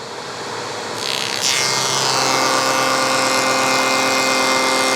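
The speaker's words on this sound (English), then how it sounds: "So the hoover's turned on now." A hoover vacuum switched on and drawing air through a cheap cyclone dust collector separator, a loud steady roaring rush that swells up within the first second and a half, then holds constant and close with no talk.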